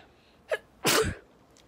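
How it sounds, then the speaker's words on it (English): A single sharp sneeze sounds close and loud, with a quick intake of breath just before it, in an otherwise quiet moment. "I gotta sneeze."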